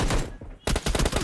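Gunfire in PUBG Mobile: two quick bursts of loud, close shots split by a brief lull, the second volley rattling rapidly to the end.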